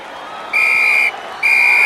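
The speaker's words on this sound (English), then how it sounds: "And there goes the final whistle." A football referee blows the final whistle at a match: two long, loud, steady blasts, the first about half a second long and the second starting after a short gap, heard over a low crowd murmur.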